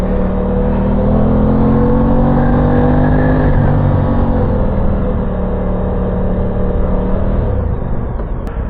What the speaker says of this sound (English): So this is Aprilia's parallel twin 270 degree.